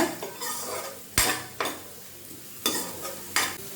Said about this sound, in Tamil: வெங்காயம் பாருங்கள் நல்லா பொன்னிறமாக வதங்கிருச்சு, இந்த அளவுக்கு வதக்கிக்கோங்க.